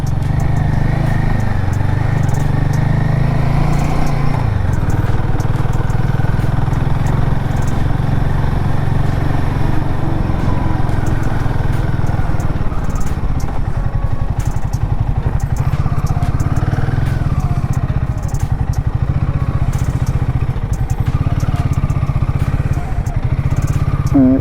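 A Royal Enfield Himalayan 450 motorcycle engine rumbles steadily and close for the whole stretch, with rattling and clatter as it rides off-road over rough ground.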